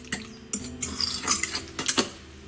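Utensils clink and scrape against a bowl while mashed fruit is stirred together with coconut milk and honey, several close, sharp taps and scrapes in an uneven rhythm with no talking.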